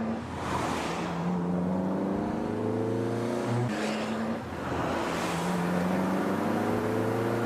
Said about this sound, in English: Great to see these old cars out and about and driving around, being used.